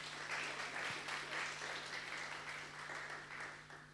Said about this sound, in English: So a big round of applause to them.